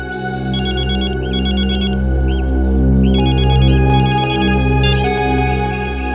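A telephone ringtone plays loud and close, a repeating electronic melody in bursts over a steady hum, with no talking.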